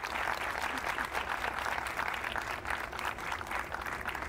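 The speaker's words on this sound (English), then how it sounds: "one more round of applause," Applause from an audience at an award ceremony, a dense, even wash of many hands clapping together that holds steady from start to finish with no talk over it.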